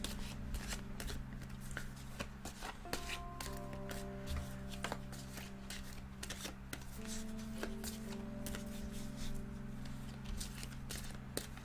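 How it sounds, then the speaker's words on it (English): A full deck of tarot cards is shuffled in repeated crisp riffles and soft slaps, close and fairly quiet over a low steady hum with faint tonal background sounds. "I just want to give it a good shuffle."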